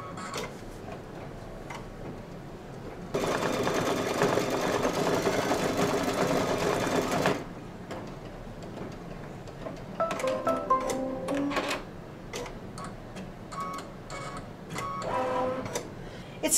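A multi-needle embroidery machine stitches a watermelon and small hearts design. A dense, loud burst of rapid mechanical stitching runs for several seconds, followed by quieter intermittent ticking and short stitching runs, with no talk.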